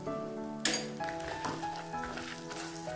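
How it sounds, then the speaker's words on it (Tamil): Green chilies, garlic, peanuts and a pinch of turmeric sizzle in a pan for millet lemon rice, with a steady fry, a sharp clack of the spoon, and scraping stirs throughout. "பச்சை மிளகாய், நிலக்கடலை, கொஞ்சமாக மஞ்சத்தூள் போட்டுக்கோங்க கலருக்காக. போட்டுட்டு இதை நல்லா கிளறி விடணும்."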